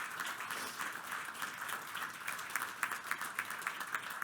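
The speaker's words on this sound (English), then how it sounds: "I would like to have a round of applause for that" A round of applause at a township council meeting, a dense, even patter of many hands clapping in a room, moderately distant, swelling slightly toward the end.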